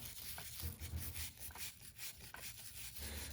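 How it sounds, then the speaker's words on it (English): Plastic brush scrubbing powdery carbon off a paramotor engine head by hand, a quiet close rhythmic scratchy rubbing in short repeated strokes, alone. "Using a plastic brush, we're going to go ahead and get this carbon off the head."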